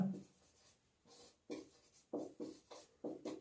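Chalk or a marker scratches across a board as the answer to a median maths problem is written out, a series of short, close, rubbing strokes in quick uneven bursts, with no talking.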